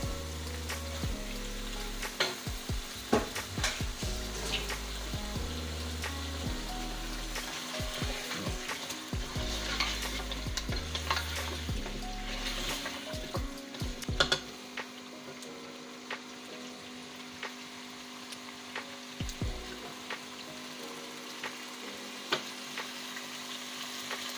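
Chicken frying in plenty of oil for qorma, a continuous crackling sizzle with spatula scrapes and clanks against the pot, settling into a steadier fry near the end.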